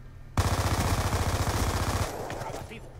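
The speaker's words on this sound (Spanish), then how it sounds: "Me dispara otro." Rapid automatic gunfire in Call of Duty Black Ops 2 bursts in loud and close as a sustained stream for nearly two seconds, then drops to quieter game noise with distant shots.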